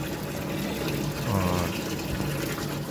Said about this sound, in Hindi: मोटर के द्वारा अब इस कूलर के अंदर पानी भरेंगे।